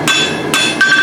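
Loud, close hammer blows on hot steel while forging a pair of blacksmith tongs, three ringing metallic strikes in quick succession with bright sustained overtones and no talk.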